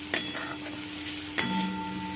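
Spices sautéing in a pan for paneer bhurji give a steady sizzling hiss. Two brief scraping stirs land near the start and at the middle, close and moderately loud, with no voices.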